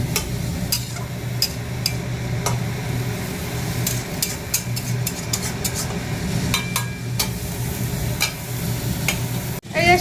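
Leafy greens (saag) stirred and fried in a pan on a winter day, with continuous sizzling and repeated scraping clicks of a utensil against the pan, close and moderately loud, no talk.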